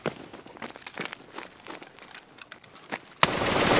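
Gunshots in the video game Escape from Tarkov, fired with M62 rounds to kill an enemy: faint scattered ticks and steps give way to an abrupt, loud blast of gunfire that carries on to the end.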